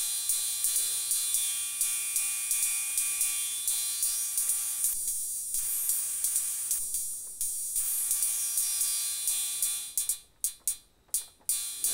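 Circuit-bent Boss DR-110 drum machine playing a programmed cymbal pattern: a steady, bright hissing wash with a faint hum, ending in a few sharp rhythmic cymbal hits near the end, with no voices.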